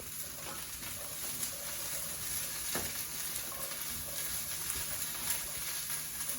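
Broccoli browning in a hot pan gives a steady, close sizzle and crackle that runs evenly throughout with no talking.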